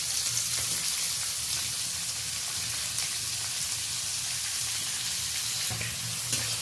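Onion hits hot spiced oil for a tempering, giving a continuous bright sizzle and fry close up, steady and dense throughout with faint stirring scrapes.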